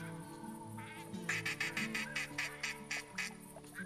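Ducks quack repeatedly in theHunter Classic duck-hunting game, a quick run of loud, evenly spaced calls over steady game ambience with no talk.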